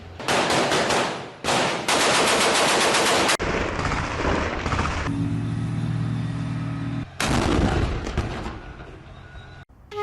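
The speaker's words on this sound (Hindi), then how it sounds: "हमास के ठिकानों को घेर कर गोलीबारी की गई है।" Heavy gunfire rattles during an IDF ground operation in Gaza: loud, dense bursts of automatic fire in close succession, broken by short gaps and a harsher, lower-pitched burst partway through.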